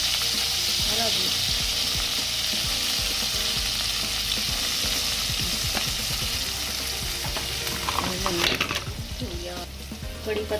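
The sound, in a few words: stirring poha frying in a pan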